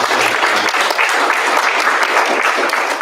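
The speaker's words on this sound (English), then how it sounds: "let's give a round of applause for everybody" Steady crowd applause, dense and continuous clapping from many hands throughout, loud and close with no talking over it.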